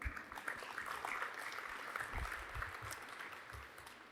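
Audience applause at a conference lightning-talk session, steady dense clapping from a crowd throughout, fairly even in loudness, with no speech over it.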